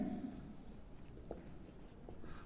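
Writing on a board during a maths lesson: quiet, close scratching strokes that come and go, with a few soft taps and no talking.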